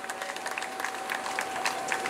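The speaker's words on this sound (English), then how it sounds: "Give them a big clap." Crowd applauding runners at the Bideford 10k race outdoors: dense, steady clapping from many people, fairly close and sustained throughout.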